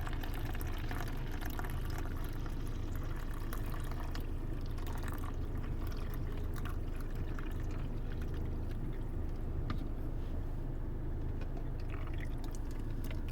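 Hot water is poured over coffee grounds inside a parked car in the city, a steady, low liquid rush that runs continuously and fairly close, with faint background noise and no talking.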